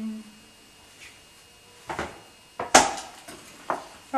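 A knife chops through an onion on a board, a few separate, sharp cuts with a clack, with quiet gaps between them in a calm kitchen.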